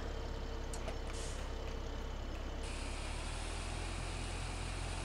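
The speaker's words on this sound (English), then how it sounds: "let's see if I can get this combine down the road here" A combine harvester driving down a road in the Farming Simulator 17 video game, a steady, continuous engine drone with no break or change in rhythm, heard alone without talk.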